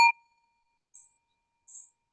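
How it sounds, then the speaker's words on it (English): A small desk bell used on a sports radio show gives one bright ding that rings out and fades, followed by two faint, soft high taps, with no talking. "The bell from the radio show."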